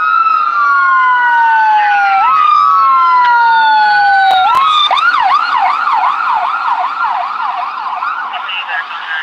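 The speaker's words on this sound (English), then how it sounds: "That's the ambulance." Loud ambulance siren wailing and then switching to a rapid yelp as it passes close by in a street, sweeping tones dominating throughout with no talk.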